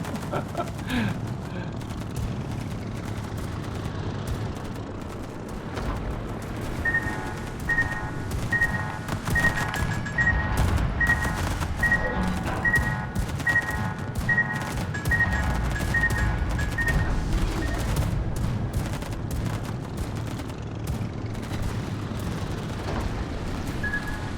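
Anti-aircraft guns on the pan-Asian destroyer Lushun firing in World of Warships, producing a steady dense rumble of rapid booming shots over twenty-odd seconds, moderately loud and continuous.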